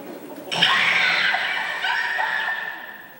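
A person screams loudly and alone, a sustained shrill cry of about two and a half seconds that wavers in pitch and briefly dips before trailing off, played as a recorded emotional stimulus.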